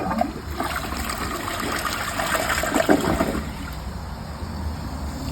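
A Niagara Stealth toilet flushes a grocery bag, a steady rushing gush of water lasting several seconds with a brief surge near the middle before easing into a trickle.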